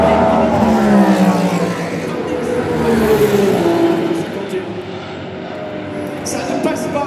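A Toyota hypercar in Le Mans 24 Hours qualifying, descending through the bridge corner, with its engine note rising and falling loudly as it passes, beneath excited commentary.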